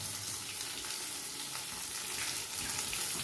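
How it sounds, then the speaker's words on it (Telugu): Okra frying in a hot pan, a continuous hissing sizzle with a bright, noisy texture, steady and moderately close throughout. "ఇలా చేసుకున్న తర్వాత మీకు సౌండ్ వినపడాలి కదా, సుయ్యి అని"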